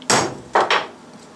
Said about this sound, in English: put the center punch in, hit it with a brass hammer